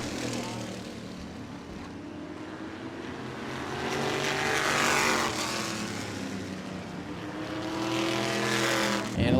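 Race cars roaring around New Smyrna Speedway, a loud continuous engine drone that swells as cars pass close by, with an announcer speaking over it.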